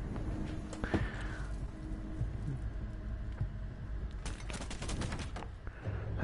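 Rapid automatic gunfire from a fast-firing weapon in the shooter Rainbow Six, with scattered single shots early on, then a dense, loud burst of quick shots near the end over low game ambience.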